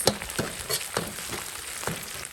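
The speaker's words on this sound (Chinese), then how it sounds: "还有花椒，给它炒一下" Sichuan peppercorns, fermented black beans and chili bean paste stir-fried in a wok for a street-stall hotpot, a soft steady sizzle with several scraping stirs at an even rhythm, close and moderately loud with no voices.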